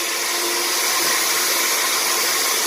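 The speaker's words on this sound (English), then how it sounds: "So I'm going to start whisking with this, and I'm going to go on high." An electric mixer whisks meringue for a lemon meringue pie on high speed, a loud, steady, close whirring drone with no variation or talk.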